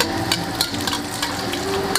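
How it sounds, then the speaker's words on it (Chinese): Shredded dried chilies fry in a wok with a lard and salad oil mix, a close, steady crackling sizzle punctuated by quick clinks of a spatula against the pan. "然后呢把干辣椒丝下锅炒香"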